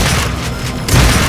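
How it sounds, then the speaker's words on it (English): A Warframe shotgun fires loud and close with a booming blast, and a second heavy burst comes right after within a dense wash of game noise. "But then I'll just shotgun him in the face."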